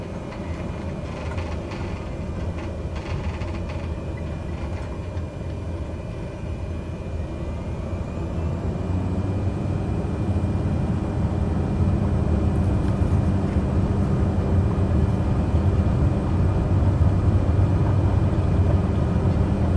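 Airliner engines spool up and roar steadily through a takeoff roll inside a passenger cabin, a loud continuous rumble that grows slightly louder midway, with no talk.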